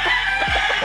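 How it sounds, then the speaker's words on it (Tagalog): A six-month-old stag rooster crows and clucks close by, several short calls over steady background noise, with no voices. "Ayan po ang ating 6 months na stag."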